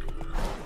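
Hooves of Roach, the horse in The Witcher 3, clip-clopping briefly on ground near a lake or river, a short close burst of steady hoofbeats over game ambience without a clear whinny.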